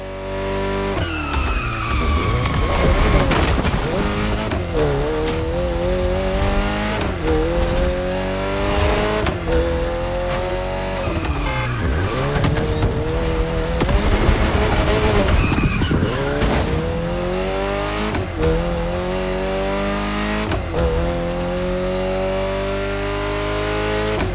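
A car in The Crew Motorfest, in a gymkhana-style session from the Hoonigan HQ, drives hard with a loud, continuous engine roar, rising revs and long tire squeals as it slides. The sound is steady and close.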